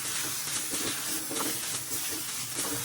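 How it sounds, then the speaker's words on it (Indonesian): Spice paste sautéing in a steamer pot instead of a wok, a steady loud sizzle and hiss continuing without pause. "untuk bumbunya ini kita tumis sampai mateng ya teman-teman"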